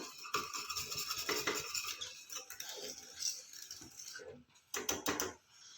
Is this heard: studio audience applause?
no